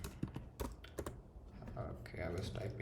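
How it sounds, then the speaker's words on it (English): Rapid, uneven clicking of keys on a computer keyboard while someone types code, with bursts of keystrokes and a person talking quietly over them. "I was typing this before"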